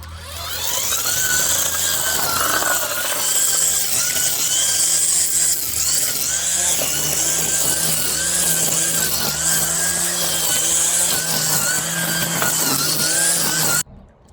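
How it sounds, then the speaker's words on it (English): A loud, continuous motor whine of a string trimmer cutting weeds close by, wavering slightly in pitch as it cuts, then abruptly stopping at the end. "Now all this needs to be cut with the weed eater"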